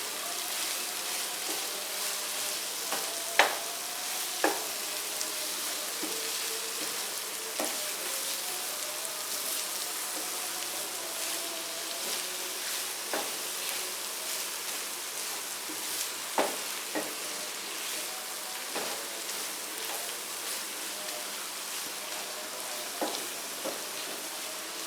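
Chicken liver and heart sizzle steadily in a pan while being mixed with salt, a continuous close frying hiss broken by occasional spatula clicks and scrapes, no voices.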